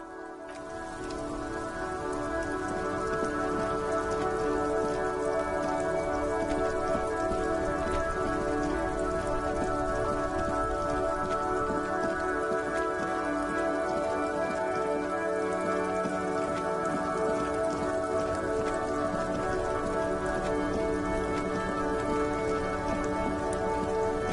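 Steady, dense rain falls continuously in the video game Disco Elysium, a loud, even hiss of drops on surfaces with no break, heard alone.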